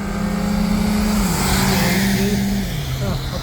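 A 2018 Volkswagen Tiguan SUV engine drones loud and close as it accelerates hard from a launch, the pitch holding then stepping down as gears shift, with a voice faintly underneath.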